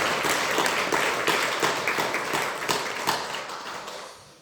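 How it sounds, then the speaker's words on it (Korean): Applause from a small church congregation honoring military chaplain assistants, a burst of close hand claps that starts strong and slowly thins and fades, with no talking. "사랑하는 우리 군종면들을 위해서 박수 한번 주실래요?"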